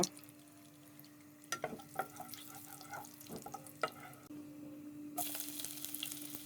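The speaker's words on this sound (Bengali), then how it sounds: "2টা তেজপাতা, এলাচ, দারচিনি। এখন একটু ভালো করে নেড়ে নিব।" Bay leaves, cardamom and cinnamon stirred in hot oil in a pan for shrimp bhuna give a quiet, steady sizzle with a few soft scraping clicks, then a brief louder hiss near the end.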